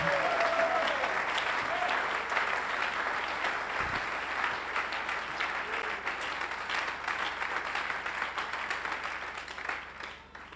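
A church congregation applauds loudly and continuously, the dense clapping of a large crowd with scattered cheers, gradually easing toward the end.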